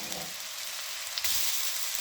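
Ginger-garlic paste sizzling in a small amount of oil with onion in a pan, a steady faint frying hiss with a slight rise in crackle near the end, no talking.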